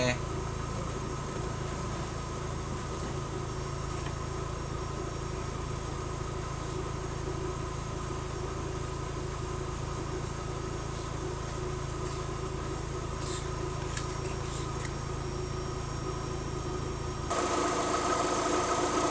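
A car engine idles roughly and unevenly while an ECU fault code U2015 for lost sensor communication is stored, a steady close mechanical drone with a brief jump in loudness near the end.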